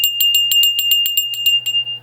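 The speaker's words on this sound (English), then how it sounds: "Let's ring the bell." A small bell rung while walking around a house: about a dozen bright, evenly spaced rings, loud and close, slowing and trailing off toward the end over a low steady hum.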